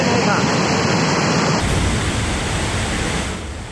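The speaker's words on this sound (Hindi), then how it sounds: "सैकड़ों फीट की ऊंचाई से सिर्फ पानी नहीं आ रहा था, बल्कि अपने साथ बड़े बड़े पत्थरों को भी बहाकर ला रहा था" Floodwater roaring down a mountainside at Sonprayag in Rudraprayag, Uttarakhand, carrying large boulders and debris: a loud, dense, continuous rushing torrent filling the whole clip, close and unbroken.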